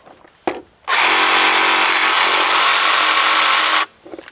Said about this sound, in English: Not too bad for a reciprocating saw.